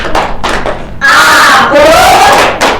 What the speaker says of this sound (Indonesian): Sekarang tepuk konsentrasi dulu.